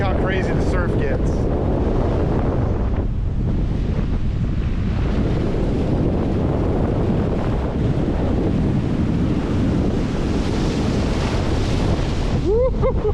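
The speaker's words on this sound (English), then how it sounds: "Look how crazy the surf gets." Heavy ocean surf crashes and roars without pause along a Florida east coast beach near a jetty during Hurricane Helene, loud and close, with strong wind buffeting the microphone throughout.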